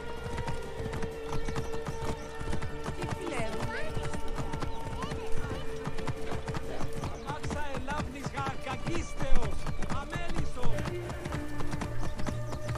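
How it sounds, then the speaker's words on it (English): Horse galloping in Assassin's Creed Origins on Xbox One, rapid clip-clop hoofbeats running continuously under game music and occasional voices, with a brief whinny. "Is there a way to make the horse go faster?"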